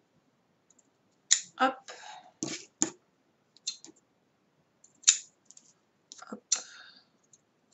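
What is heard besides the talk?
scissors cutting paper for a personalized bookmark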